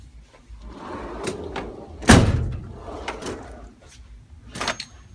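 A drawer in a tool storage cabinet holding pick screwdrivers, panel poppers and seal pullers slides open with one sharp metallic clatter and rattle, framed by lighter knocks and shuffles of handling before and after.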